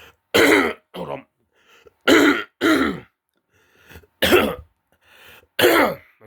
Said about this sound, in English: As you can see, I'm coughing a lot